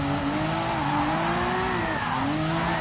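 A race car in GT Sport brakes into a corner, its engine droning loud and continuous with pitch sweeps as it slows and revs.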